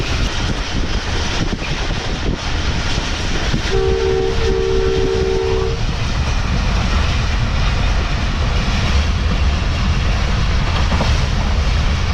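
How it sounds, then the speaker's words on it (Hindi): The Pak Business Express passenger train races through Jhania railway station at speed, a loud steady roar of wheels and rushing air with a sustained horn blast partway through. "बेहतरीन स्पीड में ट्रेन ने स्किप किया झानिया रेलवे स्टेशन को।"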